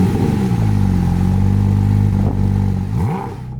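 Porsche GT4 RS engine turns over with a key and fires up, settling into a loud, steady idle with a brief rev toward the end.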